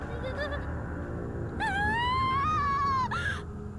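A long, loud, wavering female scream rises and falls for over a second, preceded by a shorter wail and ending in a sharp cry, from a character in the horror video game Corpse Party: Book of Shadows.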